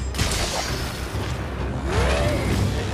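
Bazelgeuse's scattered bombs go off in Monster Hunter Rise, a loud burst followed by another blast with whooshing and mechanical rattles in the game's busy mix.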